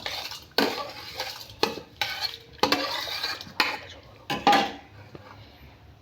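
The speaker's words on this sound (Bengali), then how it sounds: "এই যে জলটা গরম হয়ে গেছে, এবার এর মধ্যে আমি চালটা দিয়ে দিলাম ধুয়ে।" Washed rice goes into a pot of hot water on a kitchen stove, with a string of scraping, clinking utensil-on-pot sounds coming in short bursts about once a second, close by and fairly quiet.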